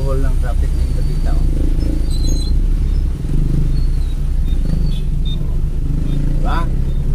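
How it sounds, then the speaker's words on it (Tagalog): Heavy road traffic in a Davao city jam: a constant low rumble of car and motorcycle engines with occasional horn-like tones, loud and close, and a voice talking over it. "Kabuhol-buhol ng traffic ng Davita."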